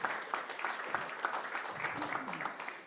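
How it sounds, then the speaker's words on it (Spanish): Audience applause for a panel at a conference inauguration, a dense, even patter of many hands clapping throughout at moderate distance. "pido un aplauso para la mesa"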